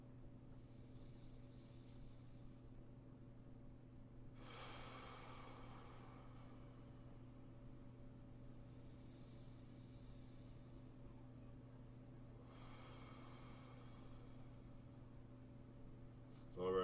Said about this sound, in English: let's go ahead and do a couple breaths together